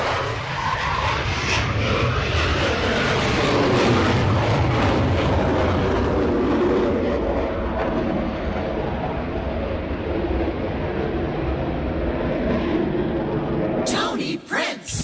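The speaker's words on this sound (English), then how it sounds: "nicely being warmed up by those jet engines" Jet engines warm up at an air show, a loud, continuous, close roar that holds steady for about fourteen seconds before cutting off abruptly.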